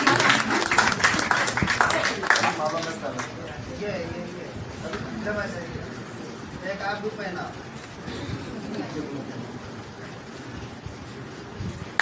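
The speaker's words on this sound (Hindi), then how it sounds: "एक बार जोरदार तालियां बजा दीजिए।" Audience at a Hindi book launch and award ceremony clapping for an honoree, loud applause at first that thins out as a voice talks over the remaining scattered claps.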